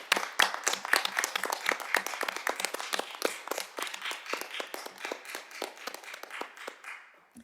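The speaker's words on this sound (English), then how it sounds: "Shall we give them all a round of applause?" A small group at a Sheffield City Council housing policy committee meeting claps steadily for several seconds, the dense, crackling patter fading slightly toward the end with no talking over it.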